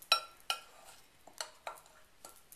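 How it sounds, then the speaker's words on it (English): A utensil scrapes and clinks against a bowl, stirring crushed Oreo crumbs into melted batter in a steady rhythm of about seven close strokes, with no talk. "we're going to stir this together"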